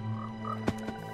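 Frogs croaking in Minecraft, two short, low, clicky croaks in quick succession over a steady background hum.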